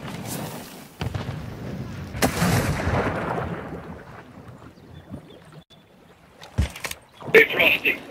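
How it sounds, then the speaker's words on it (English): Gunfire in a video game during a firefight, with heavy booming shots and rumbling blasts spread across the stretch, loud and close, followed by sharper crackling bursts near the end. "They're shooting."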